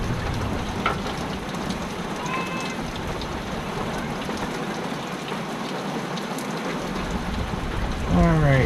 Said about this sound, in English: This must be the year we're gonna get a lot of rain,